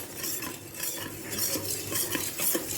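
A spoon stirs heaping cornstarch into milk in a pot, scraping steadily and repeatedly against the sides in a close, continuous rhythm.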